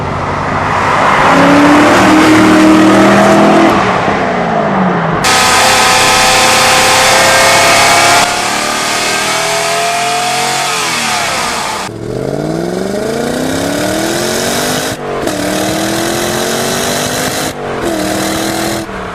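A Lotus-designed engine in a C4 Corvette ZR1 revs hard and close, with several sharp rising roars that climb and fall back between blips. The revving is loud and heard without talk.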